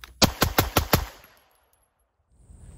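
Five rapid handgun shots ring out in quick succession at concealed carry shooting practice, loud and sharp with short echoing tails, followed by near silence and faint ambient noise.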